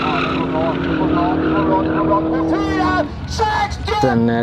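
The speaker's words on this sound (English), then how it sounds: "This Ferrari F12 V12 sounds very good" A Ferrari F12 V12 engine at a street car meet in Sweden idles with a smooth rumble, then revs up in several quick, rising bursts, close and loud under background talk.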